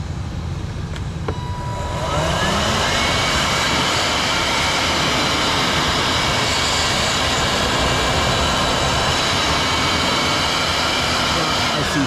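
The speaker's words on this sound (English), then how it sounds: "blow it with the little air blower right there" A small handheld air blower runs at high speed during work on a Honda Element, giving a steady, loud whooshing roar after a brief starting click, continuous and close with no talking.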